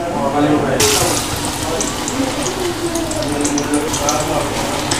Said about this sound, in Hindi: अब मैं इसको फ्राई करना दिखाती हूँ आपको।